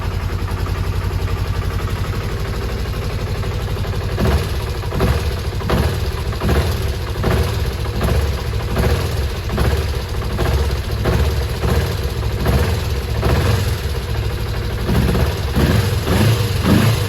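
A Kawasaki ZZR 250 track bike idles close by with fresh oil, a steady, loud, even engine drone with a regular pulsing beat that holds throughout with little change in pace.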